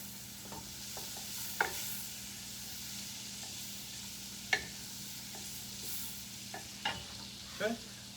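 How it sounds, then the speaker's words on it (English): Food stirred in a pot of sizzling bacon fat gives a soft continuous frying hiss, punctuated by several scraping and clinking stirring sounds, close and fairly quiet. "Stir that up."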